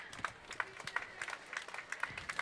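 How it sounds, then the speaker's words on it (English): Parade spectators along a street applaud veterans walking by, a light scattered patter of clapping, fairly faint and outdoors, with irregular sharp hand claps. "They get a nice round of applause."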